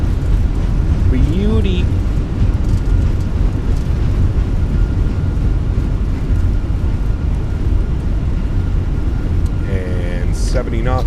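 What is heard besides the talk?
Airbus A321 thrust reversers on landing, flight simulator game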